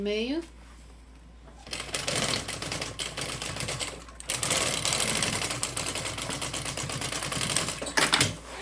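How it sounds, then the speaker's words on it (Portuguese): A sewing machine stitches backpack fabric in steady rapid runs, loud and close, with a brief pause near the start and a short stop before resuming. "vou costurar com o avesso virado pra cima"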